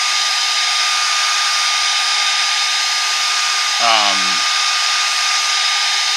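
A heat tool blows hot air steadily onto a heat-resistant acetate sheet, a constant loud whooshing hum with a brief squeaky scrape midway through.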